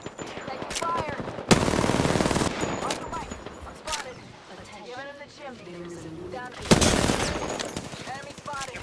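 Rapid automatic gunfire bursts from a squad-based shooter video game, with loud sustained volleys and sharp shots, layered under radio-style voice callouts and ambient battle noise.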